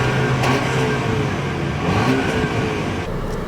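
A 2018 Audi A5 Sportback drives off. Its engine gives a steady, close drone inside the cabin and rises slightly as the car gets moving.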